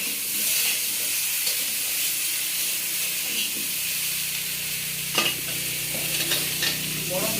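Pumpkin, potato and cauliflower fry together until reddish, a constant close hiss of oil with occasional stirring scrapes and a few sharper crackles toward the end; nobody speaks.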